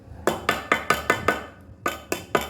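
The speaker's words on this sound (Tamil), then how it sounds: "தேங்காய் துருவுறது" Coconut being grated by hand for a sago cake batter: about nine evenly spaced raspy scraping strokes, close and fairly loud, with a short pause midway and no talk.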